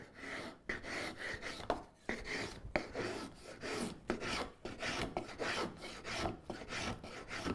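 A homemade poor man's spokeshave shaves wood in a quick series of close rasping strokes, each a short scraping pull with brief pauses between, and no talk.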